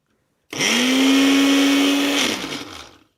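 Ninja Multi-Blender Plus with a 900 watt motor spinning up, a loud close steady whine held for about two seconds before winding down and stopping.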